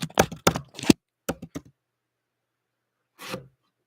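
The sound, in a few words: typing promo code on computer keyboard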